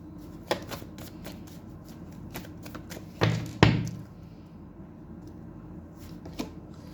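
Tarot cards shuffled and handled at close range, soft riffling and sliding with a few louder flicks and slaps, fading to quieter card movement.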